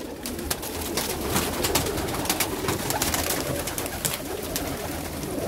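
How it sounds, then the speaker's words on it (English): Pet fancy pigeons, among them a red crested short-beaked bird, coo in soft repeated throaty calls close by. Wing flutters and shuffling noises mix with the cooing and no voices are heard. "Those are my pigeons. I love my pigeons."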